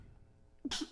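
A single sneeze bursts out after a brief quiet pause, a brief voiced catch followed by a bright hissing blast, moderately quiet and with no talk around it.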